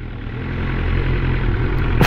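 BMW S1000R or Kawasaki ZX7R motorcycle idling on a university campus access road, a steady low rumble with faint mechanical clatter, close and continuous, with no talk.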